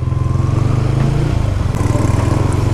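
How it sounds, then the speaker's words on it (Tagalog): Motorcycle engine running steadily while ridden through flooded streets after a typhoon in Santa Rosa–Biñan, a loud close drone with a low pulsing rumble throughout, no talking. "Baka hindi kayanin ng motor ko"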